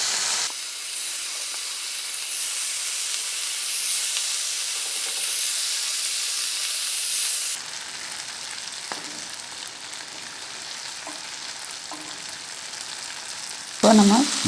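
Marinated goat brain is dropped into hot oil in a pan, setting off a loud, steady sizzle and hiss that later drops to a quieter bubbling fry with occasional clinks, then briefly flares up again.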